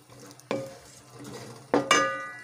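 A spoon stirs beef pulao with salt, garam masala, tomatoes and yogurt in a pot, making two or three sharp scraping strokes against the metal over a soft background sizzle.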